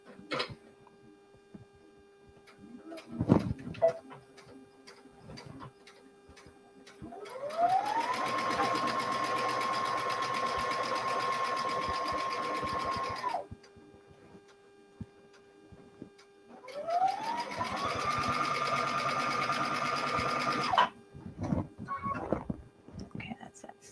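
A sewing machine stitches a quilt seam in two sustained runs, each rising to a steady whir and stopping, with quiet handling noises and soft talk in the gaps.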